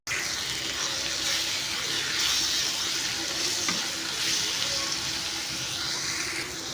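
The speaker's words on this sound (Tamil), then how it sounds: "மிளகாய்த்தூள் வாட போகிற வரையும் நல்லா கலக்கி விடுங்க." Prawns and chili powder sizzle steadily in a hot pan while being stirred, a continuous close frying hiss with soft scraping throughout and no talking.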